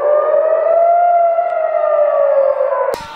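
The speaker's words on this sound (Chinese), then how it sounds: "空中不断传出小孩尖叫声、飞弹爆炸声以及震耳欲聋的空袭警报声。" A civil defense air raid siren wails loud and close in Jerusalem during an Israeli-Gaza rocket exchange, one sustained rising-and-falling tone that cuts off abruptly with a sharp crack.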